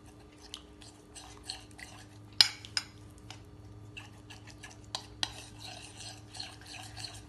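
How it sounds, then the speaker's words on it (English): Spoon stirring miso paste into soup in a pot to dissolve it smooth, with soft scraping and clinks against the pot, one louder knock near the middle, close and steady without talk. "So we're just going to dissolve it like so until it's nice and smooth."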